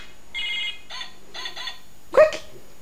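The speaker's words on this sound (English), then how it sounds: "Answer the phone." A phone rings in a bright repeated electronic trill, three short bursts close and clear, then a loud sharp cry cuts in at the end.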